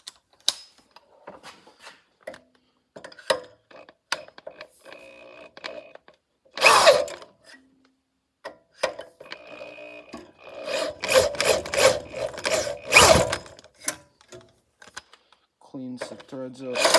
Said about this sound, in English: I'll probably just use the drill